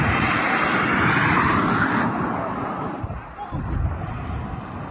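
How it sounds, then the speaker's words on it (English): Israeli military jets roar overhead in a loud, continuous rushing drone that swells and then slowly fades as they pass. "The bombs being dropped from Israeli jets."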